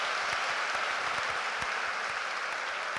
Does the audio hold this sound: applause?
yes